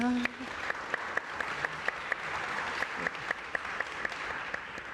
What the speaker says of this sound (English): I would love for y'all to give her a round of applause